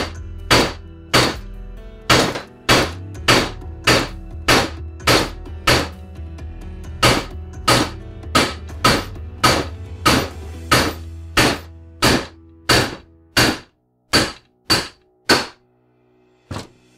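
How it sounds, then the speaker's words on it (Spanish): A 1 kg hammer dropped repeatedly by its own weight onto a part of a U241E automatic transmission, giving a long run of sharp metallic thunks, close and loud, at an uneven quick pace, alone without talk. "le estoy dejando caer el peso del martillo, no le estoy dando"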